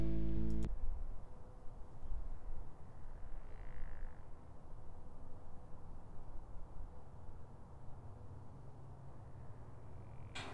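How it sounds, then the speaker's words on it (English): Frogs croak steadily across a wetland at night, a dense chorus heard from some distance over faint background hiss in an outdoor field recording. "Here's some of the audio recording from my observation in the field."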